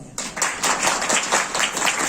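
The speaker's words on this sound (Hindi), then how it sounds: "तालियां बजा दीजिए" An audience claps together in a short burst of applause that fills the room steadily after a brief quiet start, with no talk over it.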